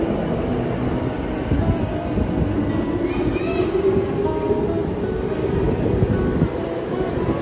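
A commuter train runs steadily, its interior filled with a loud, constant low rumble and rattling hum for the whole stretch, with a faint high whine briefly rising midway.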